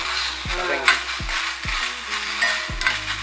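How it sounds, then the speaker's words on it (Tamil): Okra frying in a pan for Tamil-style kara kulambu, a soft continuous sizzle broken by several sharp scraping knocks of a spatula against the pan at irregular intervals, with no speech. "வெண்டிக்காய் இப்போ வந்து நல்லா வதங்கி"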